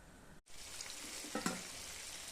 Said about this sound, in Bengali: কড়াইতে তেল দিয়ে গরম হওয়ার পর দিয়ে দিয়েছি। এখন ভাজা হচ্ছে।